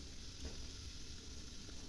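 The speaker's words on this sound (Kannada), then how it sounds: "ಸ್ವಲ್ಪ ಫ್ರೈ ಆಗಲಿ." A pan fries ingredients for a bachelor-style egg curry, giving a continuous, even sizzle and hiss with no pauses and no speech.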